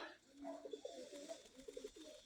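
Pigeons coo softly in a few short, throaty phrases at a modest distance, with faint background noise and no talk.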